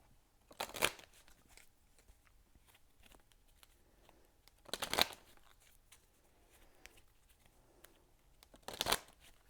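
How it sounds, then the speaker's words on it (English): A Kipper deck of fortune-telling cards is shuffled in three short, crisp riffling bursts spaced a few seconds apart, with faint quiet handling between them and no talking. "I have to give you a Kipper deck card."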